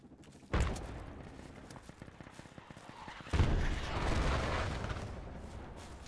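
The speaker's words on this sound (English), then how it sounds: "Don't worry about those mortars, those are just smokes." Mortar smoke rounds thump down in the Project Reality military game, two heavy low booms with a broad rumbling hiss trailing after the second, amid scattered distant gunfire.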